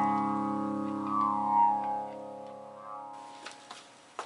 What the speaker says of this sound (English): There's a flange setting.